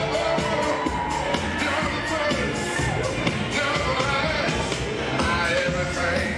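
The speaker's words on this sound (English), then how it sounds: "Let's give a round of applause for Bongani Tube" Crowd applause and cheering at an awards event fill the space continuously, dense and steady with occasional louder whoops, welcoming a comedian to the stage.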